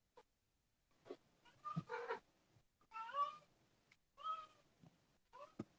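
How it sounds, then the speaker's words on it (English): Several cats at a meadery meow in turn, with repeated short and drawn-out calls at moderate volume, separated by brief quiet gaps. "I got probably about 9 cats I can see from here."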